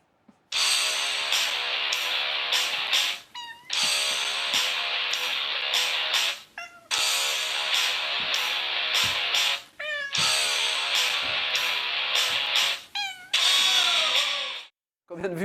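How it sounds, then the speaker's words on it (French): A cat yowls along in long sustained meows over loud rock music, the song Shine by Collective Soul, with the wailing rising and breaking between phrases at close range. "quand un chat chante sur Shine du groupe Collective Soul"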